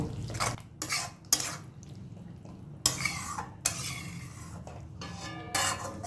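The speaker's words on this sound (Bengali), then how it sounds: "জলটা দিয়ে দশ থেকে পনেরো সেকেন্ড নাড়াচাড়া করব" A spoon stirs spices with water in a cooking pan for taro stolon curry, with sharp metallic scrapes and clinks in bursts over a faint, soft sizzle.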